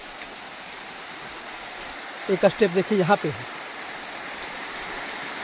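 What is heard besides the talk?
babbling hidden waterfall in Govindpur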